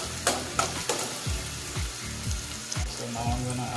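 Onion frying in a pan as the start of a pizza sauce, a soft close sizzle with a few sharp scrapes and taps of a utensil, no talking.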